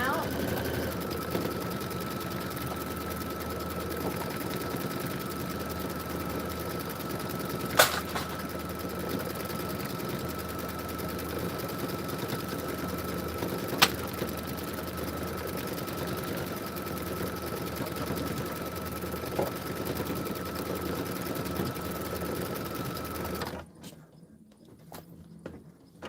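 An embroidery sewing machine stitches out a quilted basket design, a steady mechanical whir with a sustained tone and a few sharp clicks, continuing for most of the stretch before stopping abruptly into near quiet.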